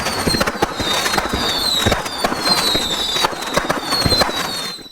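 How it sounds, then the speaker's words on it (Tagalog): Dense fireworks crackle and pop loudly in rapid, overlapping bursts, with whistling streaks rising through them, sustained for several seconds as an animated story effect of a body bursting apart. "Sumabog na lang ang kaniyang katawan na parang fireworks"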